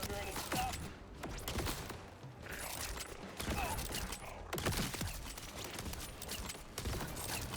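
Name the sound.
gunfire in video game Borderlands 4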